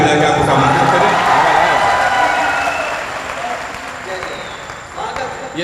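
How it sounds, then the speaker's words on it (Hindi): A crowd at a Hindi poetry recital in Prayagraj applauds loudly, a dense wash of clapping that swells at first, then slowly fades, with a voice speaking over it. "आपकी तालियां एक बार दोनों हाथ उठा के ताली बजा के आपको आमंत्रित करें।"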